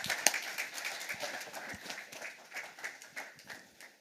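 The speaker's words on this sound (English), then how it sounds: "You can applaud." An investor day audience breaks into applause, a modest scattering of claps rising and falling unevenly for several seconds in a room.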